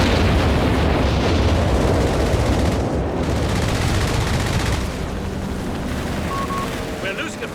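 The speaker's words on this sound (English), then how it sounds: "Brought in the naval bombardment." Naval bombardment in Company of Heroes 3 pounds the battlefield as a dense, continuous roar of explosions and rumbling blasts, loud and sustained, easing slightly toward the end, with a voice speaking over it.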